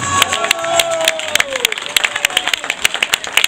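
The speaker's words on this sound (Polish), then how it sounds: "poproszę Was o wielkie, wielkie brawa!" Audience at a Breton dance show claps as a brief, uneven burst of applause, loud and close, with a voice speaking over the start.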